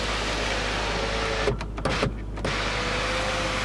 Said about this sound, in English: It's got the sunroof.